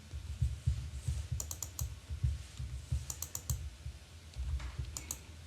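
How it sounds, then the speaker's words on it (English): Typing on a computer keyboard while entering an amount in business software, a steady patter of soft key presses with a few sharper clicks, close and quiet with no speech. "Type in the amount manually."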